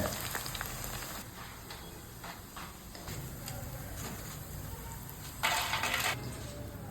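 Raw banana slices deep-frying in hot oil for Onam banana chips, a soft continuous crackling sizzle close by, swelling briefly louder near the end, no speech.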